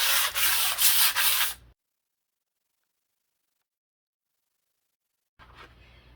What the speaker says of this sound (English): this is a 240 sandpaper